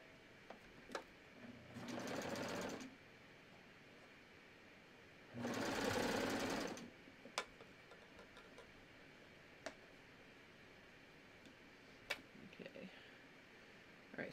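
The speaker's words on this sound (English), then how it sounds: "I'm just gonna start serging." A serger sewing machine stitches through layers of fabric while a knit tee is assembled, running in two loud sustained bursts of about a second and a half each, with quiet pauses, light handling clicks and soft speech between runs.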